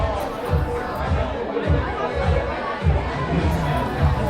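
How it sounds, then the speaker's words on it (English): Lively crowd chatter fills a campaign event at a Holiday Inn in Gaithersburg, a steady dense murmur of many voices with occasional louder swells and shouts. "the crowd has really started to get excited"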